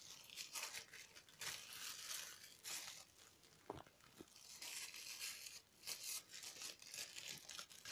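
Plastic freezer bags crinkling and rustling in quick, uneven bursts while fresh green beans are packed into them, faint and close with short pauses between handlings.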